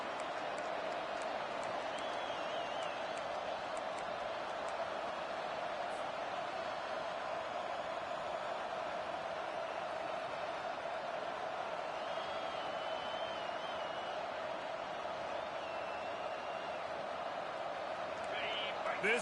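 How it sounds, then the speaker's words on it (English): Stadium crowd in the NCAA 25 college football video game against Miami, a steady dense roar that holds at an even level throughout, with a commentator's voice faintly under it. "This crowd going to try to make life miserable for these guys."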